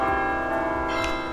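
A bright ringing bell tone, used as a notification chime, sounds alone and loud, a single sustained strike with a second shimmering accent near the end.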